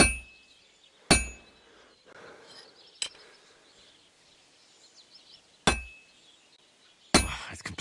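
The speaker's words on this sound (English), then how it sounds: "I have to hammer it more evenly." A hammer rings on metal at a forge in Kingdom Come: Deliverance 2, four or five loud, sharp, bright clangs spaced irregularly with quiet gaps and faint rustling between them.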